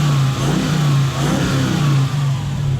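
A Toyota 1UZ V8 in a hot rod running loud and close, its steady rumble rising and falling in brief revs with small dips, no voices present.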